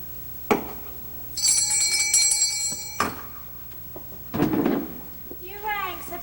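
A bell rung to summon a servant gives a bright, ringing chime that sustains for over a second alongside a few sharp knocks, followed by voices talking nearby.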